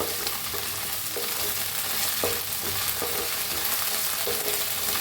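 Onion fries in a pan with ginger-garlic paste for a potato and eggplant curry, a dense steady sizzle with soft, intermittent utensil taps and stirring close by, no voices.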